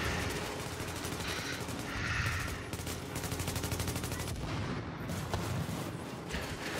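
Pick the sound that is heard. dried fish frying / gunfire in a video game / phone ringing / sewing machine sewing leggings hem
gunfire in a video game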